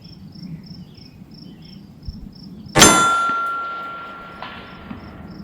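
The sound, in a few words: AR-15 rifle rounds hitting steel target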